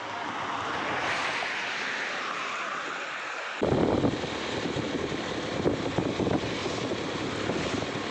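A monsoon-swollen village river rushes in a broad, continuous hiss, softer at first and then suddenly louder and closer after a cut, with buffeting wind on the microphone.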